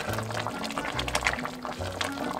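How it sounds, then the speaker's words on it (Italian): An autumn pumpkin and potato soup simmers in a pot on very low heat, a soft continuous bubbling and popping heard up close with low hums in the background. "Questo è il suono di una zuppa che sta andando bene."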